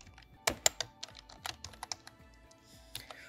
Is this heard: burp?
no